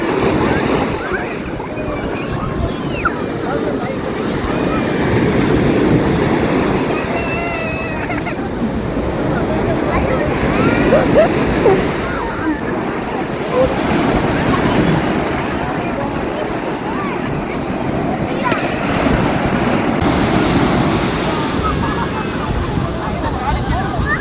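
Sea waves breaking and washing up on a Chennai beach, a steady roar of surf with wind buffeting the microphone, while voices talk over it throughout.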